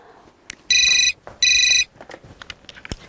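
Outgoing telephone call ringback, two loud electronic ring bursts in close succession, followed by faint rustling and small handling clicks.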